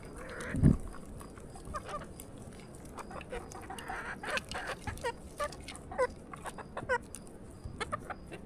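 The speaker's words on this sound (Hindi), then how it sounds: "तो ये एक मुर्गा है और बाकी जी 8 मुर्गियां हैं हमारे पास" A rooster and eight hens in a village yard cluck and call, an irregular chorus of close, chattering clucks and short squawks, with one louder cry near the start and no talk.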